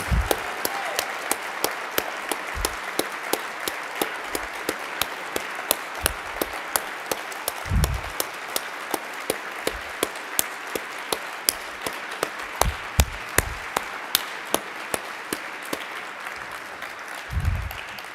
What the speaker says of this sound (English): Let's give a round of applause to Andy González.